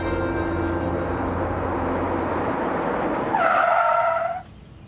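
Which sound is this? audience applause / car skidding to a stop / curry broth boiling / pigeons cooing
car skidding to a stop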